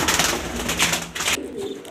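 Pigeons coo softly in a loft, with low murmuring calls repeating throughout under a steady wash of background noise.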